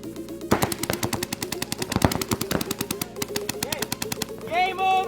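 Rapid bursts of paintball markers firing during a paintball drill at a summer camp, dense staccato pops in quick runs with brief pauses, loud and close, ending with a short high whistle-like sound.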